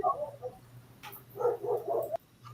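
A puppy barks and yips in a few short, fairly faint bursts in an indoor setting, with a steady low hum underneath.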